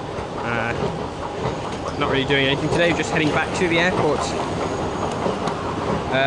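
Riding an Istanbul metro train: a steady rolling rumble with faint rail clatter runs throughout, underneath a person talking close by.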